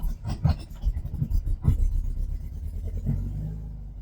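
A classic standard VW Beetle starts from cold in winter: a few rough cranking bursts and a low rumble, then the engine catches into a steady idle, close and moderately loud.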